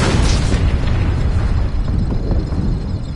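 Weapons fire striking a target in the Star Trek Bridge Crew game, a loud, continuous rumbling explosion that starts with a bright blast and rolls on as a dense, booming roar for the whole stretch.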